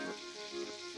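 A generous amount of onions sizzling in hot oil in a home kitchen, a steady close hiss of frying with no talking.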